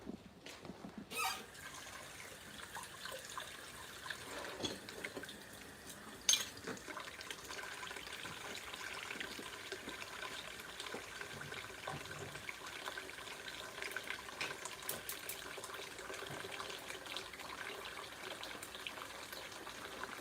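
Tap water runs steadily into a kitchen sink to fill it with dishwater, a soft continuous stream heard alone at moderate distance with no talk.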